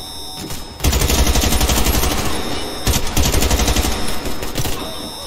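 Gunfire in the video game Warface, loud close automatic bursts of rapid shots starting after a short quiet lead-in and continuing with brief breaks.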